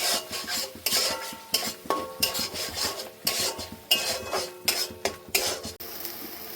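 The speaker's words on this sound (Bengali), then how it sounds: "হলুদ গুঁড়ো তার একটু ভেজে নেবো সুন্দর করে" Turmeric and chilli powder frying with spices in a pan: rhythmic scraping strokes of a spoon against the metal pan, close and fairly loud, with a light sizzle under the regular stirring.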